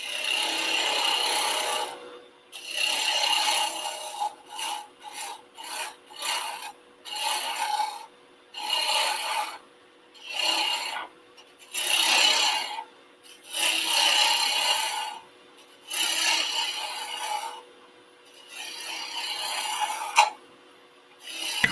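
A roughing gouge cuts a spinning wood blank on a lathe, making repeated loud rasping, scraping passes of a second or two each, separated by short silent gaps.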